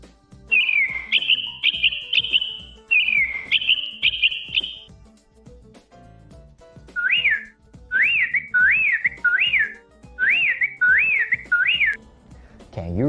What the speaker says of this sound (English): if you gently stroke its back, the smart parrot can make plenty of natural bird sounds